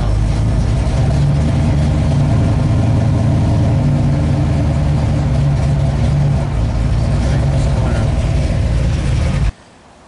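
A 1969 Chevrolet Camaro hot rod driving, its engine giving a steady, loud, close rumble with slight swells in revs, cutting off abruptly near the end.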